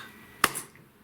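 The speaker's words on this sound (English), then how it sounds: "Magic clap." A single sharp hand clap near the middle of a tarot-style reading, close and crisp against a quiet background, with no talking.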